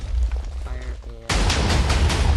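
A Minecraft cannon fires: a murky, rumbling lead-in breaks into a sudden loud blast, followed by a series of heavy, rapidly repeating booms close up.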